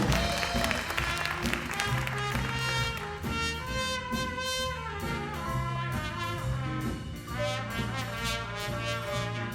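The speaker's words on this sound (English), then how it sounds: "Big round of applause for Jonah Prober." Band festival audience applauding an alumni performer, sustained clapping from a crowd running throughout, mixed with band music playing at the same time.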